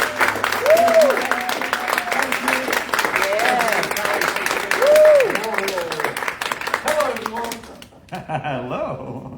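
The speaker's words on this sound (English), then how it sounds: "let's give a round of applause for our guest of the night" Steady applause from an audience at a Valentine's Day event, with some cheering and whoops rising above the clapping, which fades out near the end.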